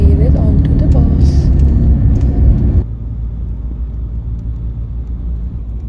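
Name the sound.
bus driving in Hurghada, Egypt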